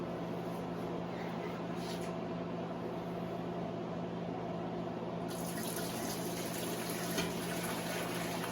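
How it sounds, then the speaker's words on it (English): Hot homemade vegetable stock pours from a pot into a strainer in a kitchen, a steady, continuous watery rush that grows brighter and louder partway through. "when I strain, I'm going to aim for the strainer when I pour this in"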